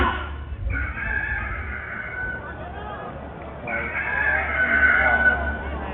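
A rooster crows twice, its long harmonic calls rising over a steady low background hum, the second crow louder and longer than the first.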